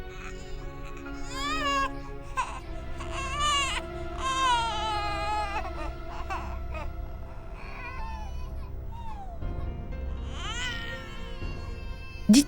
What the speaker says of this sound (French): d'où viennent ces bruits d'un bébé qui pleure?